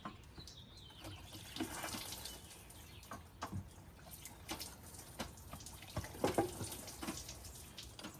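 Coolant drains from the engine of a Dodge Charger with the 5.7 engine, making a faint, continuous trickle and splash of liquid with small drips and clinks from the workshop.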